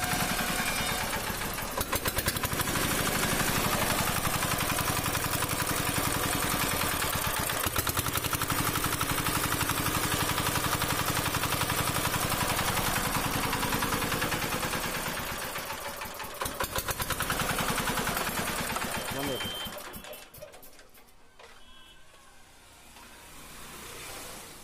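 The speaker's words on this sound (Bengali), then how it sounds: "তো ইঞ্জিনটাকে স্টার্ট করব, দেখতে থাকুন।" A Chinese-made engine runs at a steady, loud, rattling idle for most of the time, then cuts back and fades toward a quieter end, with no talking over it.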